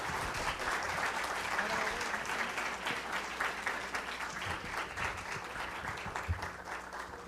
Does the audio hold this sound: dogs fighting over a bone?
no